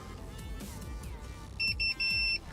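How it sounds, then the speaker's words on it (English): A Ford Puma's StarLine i96 immobiliser beeps steadily in two alternating high tones, starting partway through over low background rumble, pulsing in short bursts, signalling no tag present. "now the immobiliser system is beeping at us to let us know that there's no tags present"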